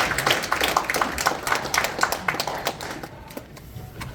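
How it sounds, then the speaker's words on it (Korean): Applause from a seated conference audience at an association's general meeting, a dense patter of many hands clapping steadily for about four seconds before thinning out toward the end, with no talk over it. "뜨거운 박수로 환영해 주시면 감사하겠습니다"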